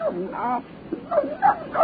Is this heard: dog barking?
yes